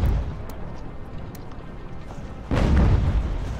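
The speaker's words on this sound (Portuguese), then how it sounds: "os canhões estão matando todo mundo aqui" Cannon fire in Ultimate General: American Revolution, a deep boom that bursts in partway through after a low rumbling battlefield backdrop, with faint distant thuds earlier.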